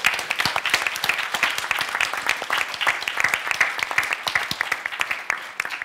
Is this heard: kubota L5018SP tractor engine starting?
no